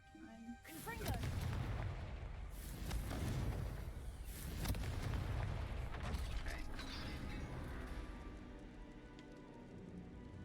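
A Confringo blasting spell goes off in Hogwarts Legacy: a loud, sustained roar of crackling, rumbling explosion starts abruptly within the first second and keeps thundering steadily to the end.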